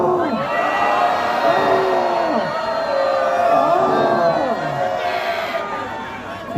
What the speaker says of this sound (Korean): 그래서 여기서 함성 한번 하겠습니다